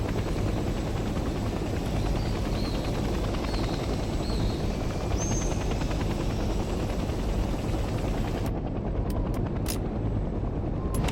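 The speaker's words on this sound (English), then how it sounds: "Now let's redeploy next to a transport helicopter." Transport helicopter in Hell Let Loose Vietnam on PS5, a steady, loud rotor and turbine roar running the full length with gunfire crackle mixed in, cutting briefly to near silence toward the end.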